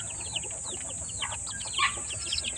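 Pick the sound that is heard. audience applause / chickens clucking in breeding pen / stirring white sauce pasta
chickens clucking in breeding pen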